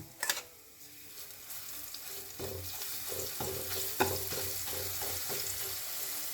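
Cumin and garlic fry in hot mustard oil, a steady close sizzle and crackle with a few stir clatters and a sharp clink near the start.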